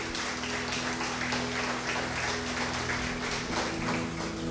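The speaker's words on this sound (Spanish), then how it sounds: "Dele un aplauso al Señor" Church congregation applauding for the Lord, a dense, sustained wash of many hands clapping steadily and loudly, with a low hum beneath and no speech.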